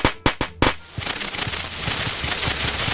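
Firecrackers burst in a video game: three or four sharp, loud bangs in quick succession, then a dense, crackling fizz of fireworks that keeps going to the end.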